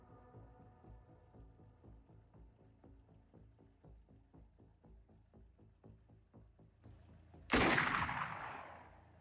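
A single loud shotgun blast from a soldier in the Xenonauts 2 tactical game, bursting in suddenly and decaying over a second after a stretch of low rhythmic music.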